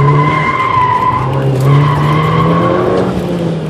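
Tires on a Volkswagen GTI skid loudly through an autocross run, a continuous squeal with a steady engine drone beneath that swells and eases over a few seconds.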